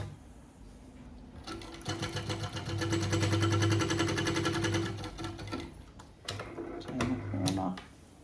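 An industrial walking foot sewing machine stitches a padded pocket in quilting-weight fabric, running in a fast, even mechanical chatter for several seconds, then slowing to a halt with a few short bursts as the corner is turned.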